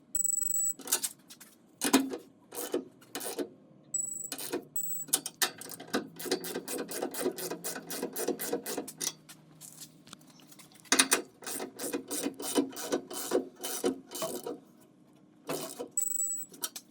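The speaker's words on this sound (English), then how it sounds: "We're going to torque these down to 25 foot-pounds." A torque wrench ratchets in rapid bursts of sharp clicks while suspension bolts are tightened on a 2023 Ford F150 V8 during a VAS suspension install; the clicks run in fast trains with short pauses, close by, with no voices.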